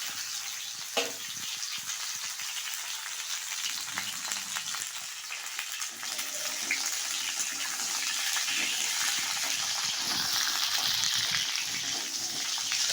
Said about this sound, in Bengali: তারপর এক এক করে আলু, পটল এবং ডাঁটা দিয়ে ভালো করে নেড়ে চেড়ে ভেজে নিলাম সবজিগুলো।